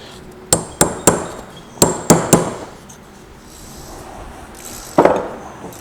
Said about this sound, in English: That hammer's a little on the large side